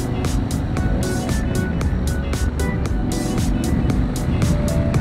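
An Aprilia Tuareg 660 motorcycle engine drones loud and steady while riding, a continuous throbbing roar mixed with wind rush and regular pulsing from the engine.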